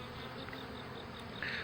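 A swarm of honeybees buzzes steadily and faintly as a continuous hum, with no voices present.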